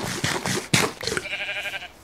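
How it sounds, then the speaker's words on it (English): A sheep in the Minecraft video game bleats in a couple of short, wavering calls, fairly close and clear, with no talking over them. "Just kill the sheep."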